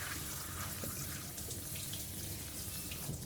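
Warm water pouring over red beans while making tsubu-an paste, a continuous splashing stream running steadily from start to finish.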